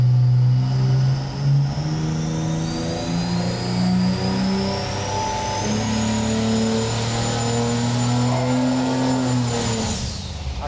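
Turbocharged Ford 300 inline six engine revving hard on a dyno pull, a loud sustained roar with rising harmonic pitch and turbo whine building across the whole run, no talk over it.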